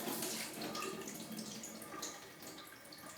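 Soaked peas in water being tipped out and drained, a steady splashing, trickling pour that runs the whole time at close range with no talk.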